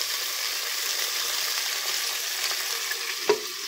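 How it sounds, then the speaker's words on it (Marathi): Drumstick pulao cooks in a covered pan on the stove, giving a steady soft sizzle that holds for several seconds, then a single dull knock near the end. "आता ह्याला झाकण लावून 2 मिनिटं शिजवून घेते।"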